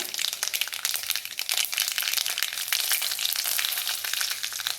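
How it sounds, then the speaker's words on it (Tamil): Curry leaves drop into hot oil where mustard seeds are already spluttering, tempering for horse gram (kollu) rasam, giving a dense, steady crackling sizzle close up with sharp pops throughout, no voices. "இப்போ கடுகு பொரிஞ்சதும் கருவேப்பிலை சேர்த்துக்கிறாங்க."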